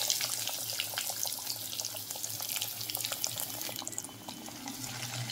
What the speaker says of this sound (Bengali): তেল গরম হয়ে গেছে, তেলের মধ্যে আমি তুলে দিলাম।